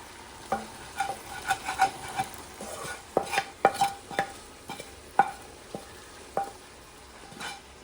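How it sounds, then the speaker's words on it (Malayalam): Chicken biryani being stirred in a pot, with repeated scraping knocks and clinks of a utensil against the pan over a soft sizzle, no voices. "നമുക്ക് ഇനി എല്ലാം കൂടെ നല്ലോണം അത് മിക്സാക്കി എടുക്കാം"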